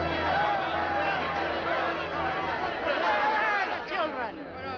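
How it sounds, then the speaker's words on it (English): A crowd of people gathered outdoors, a steady murmur of many overlapping voices at moderate distance, continuous throughout with no single voice standing out. "A crowd of them followed us here."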